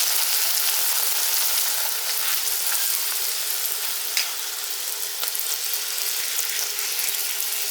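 Puri fry in hot oil with a steady, bright sizzle that holds for the whole stretch, close and fairly loud, with a few small pops and no one speaking.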